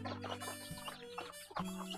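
Plump, healthy farm chickens around two weeks old, fed fermented rice-bran feed, clucking in a cluster of close, busy calls with a steady low hum underneath.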